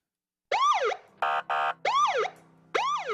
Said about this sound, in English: Sirens blaring, red and blue lights flashing.